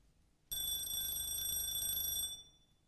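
A kitchen timer alarm goes off after a moment of quiet, ringing steadily and fairly loudly for about two seconds with a harsh metallic buzz, then stops abruptly.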